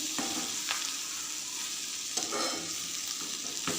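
Potato and capsicum curry cooks in oil, giving a steady, close sizzle with a few sharp stirring scrapes spaced through it, and no talking.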